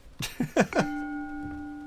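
A bell rings in the video game The Ten Bells, a few quick bright strikes that settle into a single clear sustained tone as it fades.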